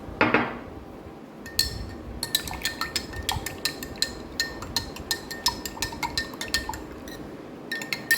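A spoon clinks rapidly and repeatedly against a glass while stirring kokum for a Goan kokum soda. The bright, close taps come in a steady rhythm after a brief soft rustle at the start.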